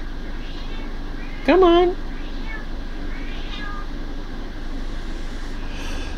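A single clear cat meow rises and falls near the start, close and fairly loud over steady low background noise, and a person speaks briefly.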